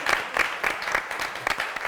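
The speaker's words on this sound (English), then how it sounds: "Please give him a round of applause." Studio audience applause on a Nigerian television talk show, heard as brisk, rhythmic clapping from a small group. The individual claps are distinct and come at a quick, steady pace for about two seconds, with no talking.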